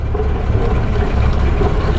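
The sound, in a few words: boat engine running loudly in second gear during sea trial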